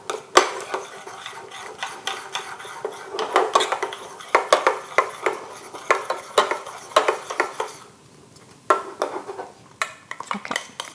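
A spoon stirs a thickening mixture in a pot over lowered heat, producing a rhythmic series of close scraping and clinking strokes with a brief pause near the end.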